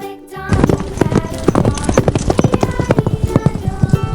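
Horse hooves clip-clopping in a steady, brisk rhythm, loud and close, running continuously after a brief quiet start.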